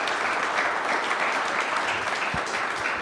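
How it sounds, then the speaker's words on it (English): A live audience applauds four panelists at the close of a panel session, steady dense clapping filling the room from start to finish with no talk over it. "can I get a round of applause for our 4 lovely panelists?"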